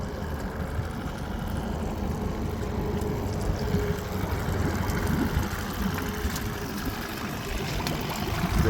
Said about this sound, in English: The engine itself is running good.